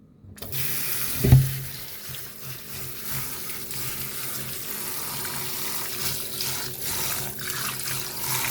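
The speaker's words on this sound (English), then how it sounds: "we are going to go ahead now and wash our rice and add it to the pot" Brown rice gets rinsed under a running kitchen tap for Jamaican rice and peas, with water pouring steadily and close by and one brief knock near the start.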